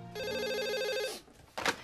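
A telephone rings with a steady warbling electronic trill for about a second, then stops, followed by a brief rustle or clunk as the receiver is picked up.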